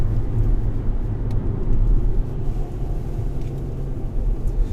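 Kia Optima SX Turbo engine downshifting, heard as a steady low rumble from inside the car with road noise and no clear rev change, loud and continuous with no talk.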